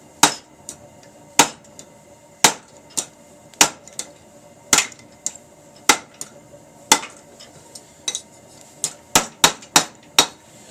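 A hammer strikes metal in backyard blacksmithing, ringing out in sharp, loud blows with uneven pauses and a quicker cluster of hits near the end.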